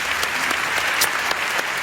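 A dense, steady burst of audience applause, many hands clapping loudly and evenly throughout.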